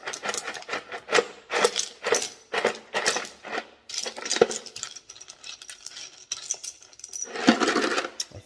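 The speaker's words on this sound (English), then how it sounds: "I think we're just going to dump that whole bowl in. Bunch of scraps." Clattering rattles of small hard rock scraps, including red jasper, tumbling and knocking together in repeated bursts as they are dumped into a 12 lb tumbler barrel, with a louder pour of scraps near the end.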